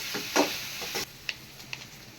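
Onions for egg gravy sautéing in a pan, a soft steady sizzle with a few light stirring scrapes and taps, fairly quiet and close.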